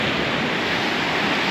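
Ocean waves at a beach in Punta del Este, Uruguay, a loud, steady broadband wash of surf with no breaks or voices.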